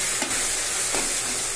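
Uttarakhand bhatt, black soybeans, fry in a pan with a steady, loud sizzle and hiss, broken by a couple of soft scraping stirs.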